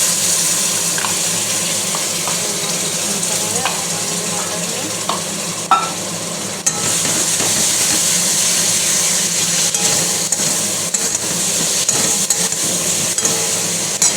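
Ginger and cumin paste hits a hot pan and sizzles in a steady, loud hiss lasting about fourteen seconds, with scattered crackles and occasional stirring scrapes.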